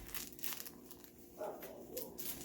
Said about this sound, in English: it's got this paper crinkly sound, crinkly paper sound.